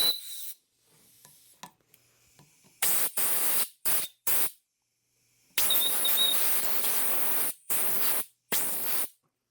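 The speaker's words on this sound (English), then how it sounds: "using brake parts cleaner and some compressed air, so you just kind of spray it in there" Several bursts of loud, hissing spray of brake parts cleaner and compressed air on an RB26 engine, some short and some lasting over a second, separated by brief quiet gaps, with a faint chirp in the background.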